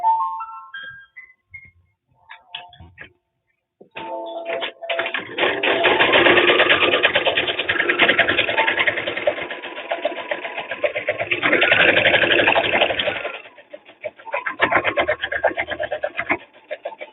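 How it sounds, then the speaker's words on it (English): A sewing machine stitches a seam in a fast, rattling run after a few faint starts, going on for about ten seconds with a short pause in the middle, then slowing into separate taps. "you sew on either side of the stitching"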